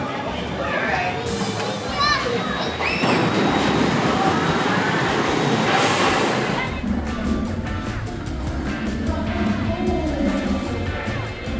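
Xcelerator roller coaster trains at Knott's Berry Farm launch and rumble past in a loud, sustained rush with rattling wheel clatter, surrounded by crowd noise and distant chatter.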